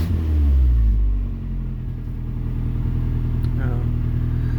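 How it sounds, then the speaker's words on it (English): A boosted Nissan D21 Hardbody truck idling as it warms up, a steady low, close rumble that swells briefly at the start, then settles into an even idle. "so the truck is warming up"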